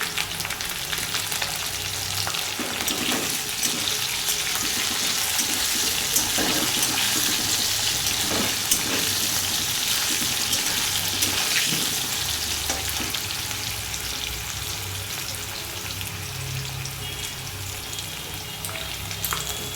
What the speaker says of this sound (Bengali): এই যে আলুগুলো লাল লাল করে আমি ভেজে নেব।